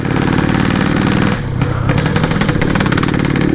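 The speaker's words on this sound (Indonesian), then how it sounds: "Sekalian manasin motornya." Yamaha RX-King two-stroke motorcycle warming up on the roadside before a long ride, a loud close engine burble that dips briefly mid-clip and then picks back up into steady rapid firing.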